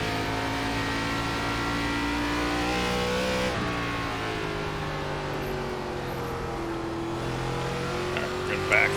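NASCAR race car engines in the iRacing game at Concord Speedway, a steady loud drone with pitch rising and falling through the laps, continuous under occasional talk.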